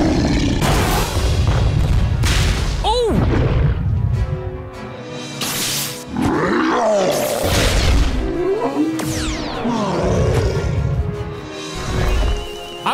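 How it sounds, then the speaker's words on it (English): Monstrous Godzilla-style roars come from King Kong in an animated battle, several loud, drawn-out bellows with rising and falling pitch mixed with heavy booms, impacts and orchestral score. "I can't get over hearing the Godzilla roar from King Kong."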